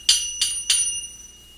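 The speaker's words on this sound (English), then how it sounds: "I use a few bells." Bells used in an electronic tape music piece are struck three times at an even pace, each bright tone ringing and fading alone.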